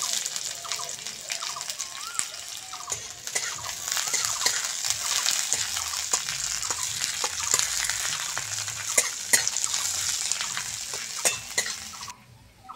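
Chopped onion and dried red chilli frying in hot oil for a greens dish, giving a loud, steady sizzle with scattered crackles and spoon clicks that runs unbroken for about twelve seconds, then cuts off.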